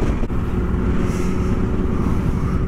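A Kawasaki KLR motorcycle riding in traffic under overcast skies, its steady engine drone and road rumble loud and continuous with wind noise, no speech.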